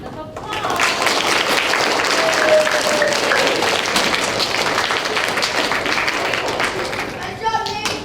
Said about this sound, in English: Mrs. Schatz, round of applause.